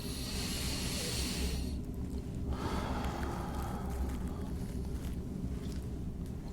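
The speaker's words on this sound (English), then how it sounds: "Deep breath." Slow, deep breathing during an EMDR therapy session: a long, airy inhale, then a drawn-out exhale, close to the microphone over steady background hiss, with no speech.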